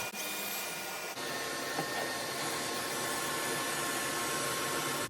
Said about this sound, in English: this jig made 32 pocket holes in no time flat with the auto clamp system and did excellent with dust collection